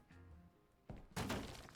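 Dynamite blast in the video game Hotel Renovator: a quiet thunk, then a sharp crashing burst of debris that rings out and fades over a second.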